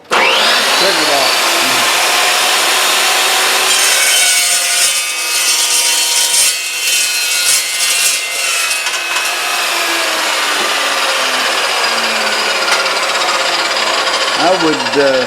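An Evolution EVOSAW380 saw cuts through material with a loud, close, harsh grinding rasp that runs steadily for most of the time, then winds down near the end.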